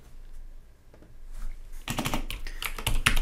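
Rapid clattering keystrokes on a computer keyboard while writing web styling code, starting after a quiet moment with a few faint taps, then becoming a dense, close burst of typing without speech.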